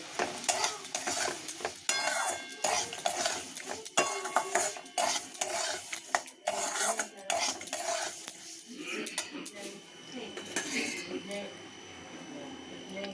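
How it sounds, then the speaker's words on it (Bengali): A utensil scrapes and clatters against a pan in repeated stirring strokes through semolina and vegetables over a soft sizzle, with a voice talking along the way. "এবার সুজিটা দিয়ে নাড়াচাড়া করে সামান্য জল দেবো"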